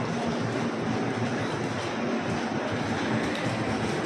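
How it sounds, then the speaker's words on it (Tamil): Steady rumbling of a train at Guruvayur railway station in Kerala, broadband rail noise with low clattering, continuous and moderately loud throughout. "நீங்கள் இப்போ பார்த்துட்டு இருக்கிறது தான் குருவாயூர் ரயில்வே ஸ்டேஷன்"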